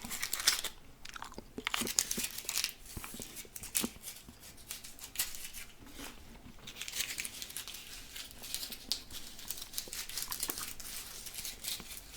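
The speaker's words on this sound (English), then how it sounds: "I don't like chewing a big water bubble gum once the flavor's gone." Bubble gum is chewed right at the mic in ASMR style: steady, wet, clicky mouth sounds with small crackles repeating throughout, with no talking.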